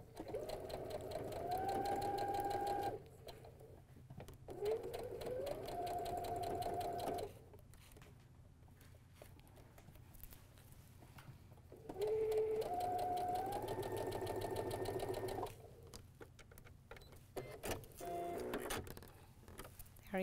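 A sewing machine stitches a quilt seam in several runs, its motor whirring and rising in speed, then stopping between runs. It is close and moderately loud, with quiet pauses and faint handling noise in the gaps.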